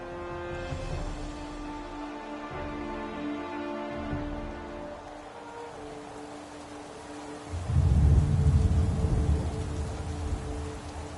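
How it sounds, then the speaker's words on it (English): Rain falls steadily while a low rumble of thunder swells partway through and lingers, set beneath sustained tonal music-like hum; no talking. "now it's raining"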